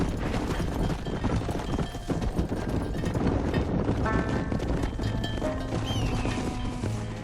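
Horse hooves from the video game Red Dead Redemption clatter steadily at a ranch pen, a loud, continuous clip-clop mixed with game music and ambient noise.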